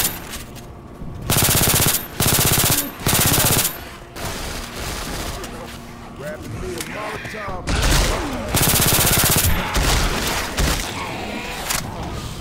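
Left 4 Dead 2 survivors fire automatic weapons in a zombie campaign, with loud bursts of rapid machine-gun fire broken by short pauses and heavier booming shots, layered over a constant game soundscape.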